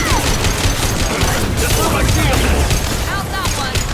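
Dense, continuous bursts of automatic gunfire and booming impacts fill a firefight in the video game Mass Effect 2, loud and close, with voices calling out amid the shooting.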